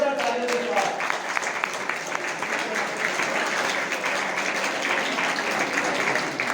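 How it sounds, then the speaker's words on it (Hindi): An audience at a Women's Day celebration breaks into loud, sustained applause, a dense, even wash of clapping lasting several seconds, with a voice briefly audible at the very start. "एक बार जोरदार तालियों के साथ"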